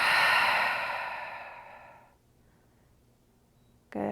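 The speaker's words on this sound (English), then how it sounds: "Exhale out the open mouth." A long, deep exhale through an open mouth, close and breathy, starting strong and fading over about two seconds into quiet room tone.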